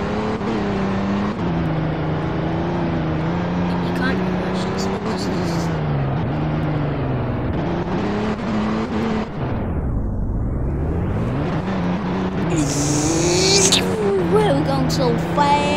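Video game car engine revving and accelerating hard, a steady droning whine that dips and climbs sharply in pitch as it races along, with a person talking over it.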